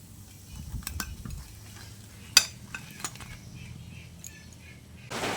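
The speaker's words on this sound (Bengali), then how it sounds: "এবার এই কাবাবগুলোকেও আমি তেল ছেঁকে তুলে নিচ্ছি" Fried soybean kebabs being lifted out of hot oil, with a faint sizzle, a few clinks and scrapes of a metal utensil against the pan, and one sharp clack.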